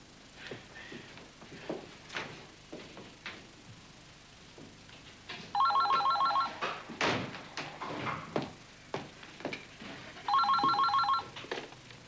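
A telephone bell rings in two loud electronic bursts amid a tense indoor scene, with a door slamming, footsteps and scattered knocks around it.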